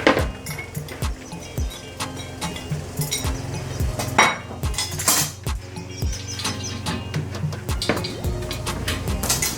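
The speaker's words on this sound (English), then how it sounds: "So my croutons already cool, so I will just mix the salad, the Caesar salad." Caesar salad tossed with croutons in a bowl: rapid, continuous clinking and tapping of utensils against the bowl, busy and close, with a low background hum.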